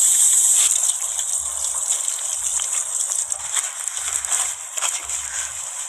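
Hands are washed under running water at the entrance of a large sexed semen station. The water gushes and splashes steadily up close, with shifting low rumbles and no speech.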